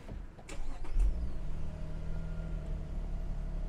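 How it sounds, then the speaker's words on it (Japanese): A Lexus LX600 engine cranks and fires with a brief surge about a second in, then settles into a low, steady idle heard from nearby, with no one talking. "エンジンかけます。"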